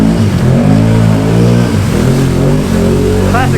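Can-Am Outlander 850 XMR ATV with an MBRP performance exhaust accelerates hard, a loud, close, deep engine roar rising in pitch, with a voice faintly under it.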